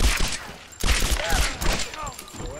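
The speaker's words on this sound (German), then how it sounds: "Die schießen uns erstmal runter." Rapid enemy gunfire rattles through a Tomb Raider shootout, dense overlapping shots and bursts with whistling ricochets, loud and continuous over the whole moment.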